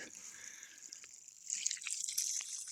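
Water drips and trickles from a leaking household boiler, a faint, steady patter with a hissing wet wash that grows slightly busier partway through, with no voices.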